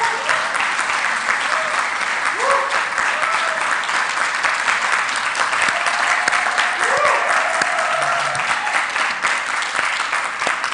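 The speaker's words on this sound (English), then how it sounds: "Let us clap for them." A large audience at a world congress in Rwanda claps continuously, dense sustained applause filling the hall, with faint voices and some higher tones threaded underneath.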